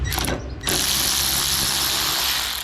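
Mechanical ratchet clicks as M10 bolts on a 2006 Suzuki DF2.5 four-stroke outboard engine's upper cover are slackened off, a close, steady rasping texture with a brief gap near the start.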